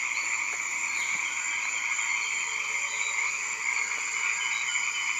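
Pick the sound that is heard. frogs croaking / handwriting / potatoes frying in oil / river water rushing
frogs croaking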